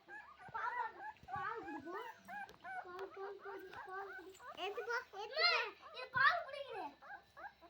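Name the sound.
puppy whimpering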